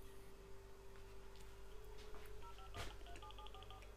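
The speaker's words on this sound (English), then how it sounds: "So if I try to redial," Phone redialing tones from a handset: a short run of dual-tone keypad beeps near the end, moderately loud over a steady background hum.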